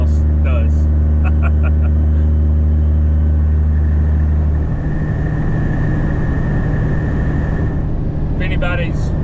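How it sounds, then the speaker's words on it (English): A straight-piped truck drones steadily while driving through the countryside, its exhaust giving a loud, choppy low tone with constant road rumble throughout and no let-up. "the sound is choppy because of the tone coming from the exhaust"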